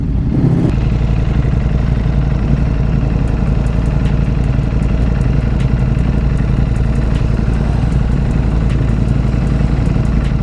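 A new Ducati Streetfighter V4 motorcycle idles close by, a loud, steady, rumbling engine with a rapid mechanical clatter running continuously from start to finish.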